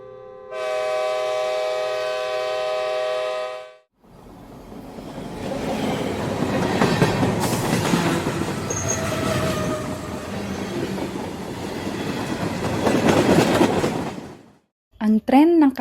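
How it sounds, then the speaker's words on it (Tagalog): A train arrives as a sound effect: a sustained horn blast sounds first, then a loud rumbling, clattering approach that builds and cuts off near the end. "Ang tren ng kaharian ay andito na."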